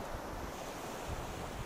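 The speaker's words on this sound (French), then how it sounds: "plus tu entends ces vagues" Steady wash of surf breaking on a shore, broadband and continuous, with gusts of wind rumbling across the microphone.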